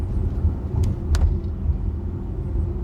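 Hyundai Ioniq 5 P45 electric crossover on the move, a steady low road rumble and tyre hum filling the cabin, with a couple of brief sharp ticks or clicks over the continuous drone.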